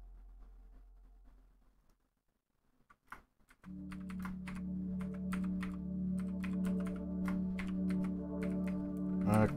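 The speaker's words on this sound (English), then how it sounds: "Clackety clackety clack on my keyboard." Typing on a computer keyboard produces a run of fast, close clicks and clacks over a steady low hum, after a short quiet lull with a few scattered keystrokes.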